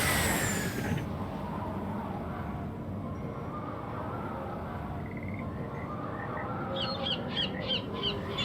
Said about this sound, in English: Wonder what that crow's doing in there.